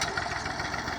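A tractor-driven tube well pump runs steadily beside the Ravi river, giving a continuous mid-pitched engine drone with a faint rhythmic knock and steady vibration.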